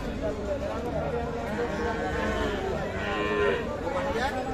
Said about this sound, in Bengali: এইটা এখানে একটা একদম ছোট গাভী দেখছি